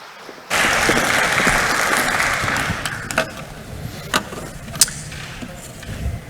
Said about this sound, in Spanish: Vamos a recibir entonces con un muy cálido aplauso para su conferencia magistral al doctor Wouter